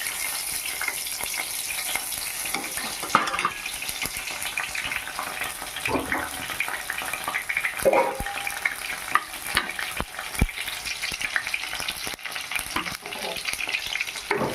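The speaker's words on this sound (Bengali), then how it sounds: "একটু নেড়ে চেড়ে ভেজে নেব।" Chopped onions fry in hot oil with tempering spices in a pan for a bean, eggplant and potato vegetable dish, a steady close sizzle broken by scraping stirs and occasional sharp clicks of the spatula.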